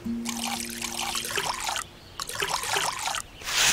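Water trickles and pours in short bursts as plants are watered in the video game Witchy Life Story, a soft splashing stream that stops briefly and resumes, with gentle game music tones underneath.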